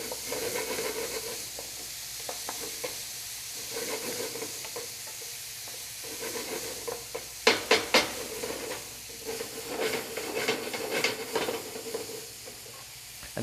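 Sausage, peppers and onions sizzle steadily in a hot pan, a continuous frying hiss with occasional stirring clatters and utensil scrapes, loudest around the middle, with no talking.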